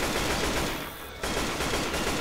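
Loud, rapid gunfire from the video game Left 4 Dead 2 rattles almost nonstop, broken by one brief lull before it resumes at full intensity.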